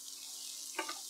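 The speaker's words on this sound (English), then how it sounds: "let this cook a little bit until the onions are translucent" Onions frying in a Ninja Never Stick pan with taco seasoning, a faint steady sizzle with a brief stirring scrape.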